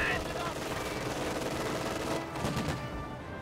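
Rapid machine-gun bursts ring out in a World War II strategy video game, dense and steady through most of the stretch and fading slightly at the end, with game sound effects layered over them.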